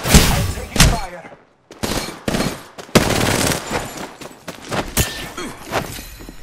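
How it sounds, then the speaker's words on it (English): Rapid gunfire in Apex Legends on the Olympus map, repeated loud automatic bursts with brief gaps between volleys, plus a few thuds and scattered impacts. "I'm taking fire."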